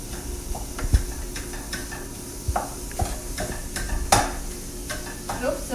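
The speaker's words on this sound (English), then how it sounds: "So, mix and chop. I'm just going to get this going, getting it all broken up" A utensil stirs and chops food in a stainless non-stick 10-inch skillet, with sizzling frying under repeated scraping knocks and occasional sharper clanks.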